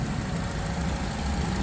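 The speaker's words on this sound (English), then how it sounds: "So I'm gonna finish letting it run, make sure it ain't overheating" A repaired Honda car engine idles steadily at close range, a continuous low rumble with even vibration and no voices over it.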